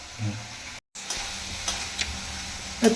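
Oil sizzles steadily as food fries, with a few soft stirring scrapes and a brief drop to silence early on.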